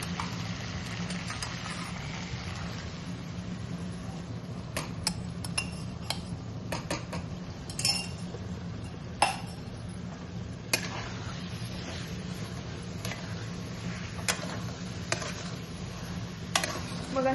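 Spiced batter being mixed by hand in a pan for mushroom chilli, a utensil scraping and clinking against the pan in irregular taps and scrapes over a steady low hum, with no talking.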